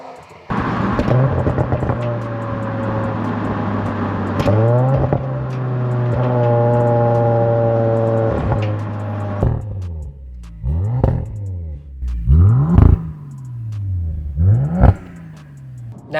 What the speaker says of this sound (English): It's mainly burbles and those little pops.